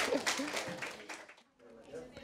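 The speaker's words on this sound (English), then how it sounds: "Let's clap for him." Applause from an audience at an elementary school science camp night for fifth graders, a short burst of clapping mixed with voices that fades within about a second and a half.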